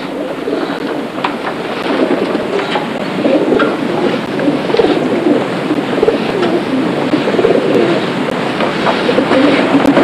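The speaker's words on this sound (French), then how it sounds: "Quand on voit les oiseaux qui circulent dans tous les sens" Wood pigeons coo outdoors in a steady layered chorus, with other birds mixed in and a constant low rumble underneath, loud and continuous throughout with no talk.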